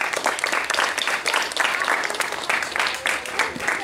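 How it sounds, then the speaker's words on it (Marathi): An audience bursts into loud, sustained applause after a public lecture on Chhatrapati Shivaji Maharaj in a neighbourhood colony, with many close, crisp claps in dense, slightly pulsing waves. "सर्वांनी जोरात टाळ्या वाजवायच्यात"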